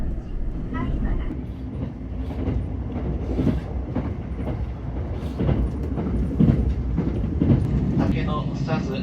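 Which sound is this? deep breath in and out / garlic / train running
train running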